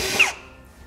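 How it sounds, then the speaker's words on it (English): A step drill bit enlarging a pre-drilled 1/8-inch hole to 9/16 inch in the steel frame of a 2016 Ram 2500 truck, a short grinding whine of under half a second that cuts off and leaves faint room hum. "Now I'm using a step drill bit to enlarge the 1/8 holes that we drilled earlier to a 9/16."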